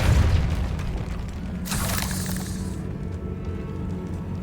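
A Depulso force spell fired in Hogwarts Legacy lets out a single booming blast with a broad whooshing burst that lasts about a second, then fades into steady low background rumble.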